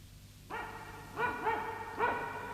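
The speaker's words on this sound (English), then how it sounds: "Midge could hear barking." A dog barks four times, moderately loud and slightly spaced, the first bark alone and the last three coming closer together.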